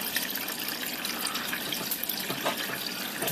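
Tap water runs steadily into a pot for soup in a home kitchen, a continuous soft rushing hiss with no talk over it.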